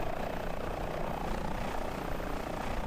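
Airbus H145 helicopter flying a firefighting mission near Jackson Hole in Microsoft Flight Simulator, a steady dense rotor and turbine roar, loud and continuous with no talking.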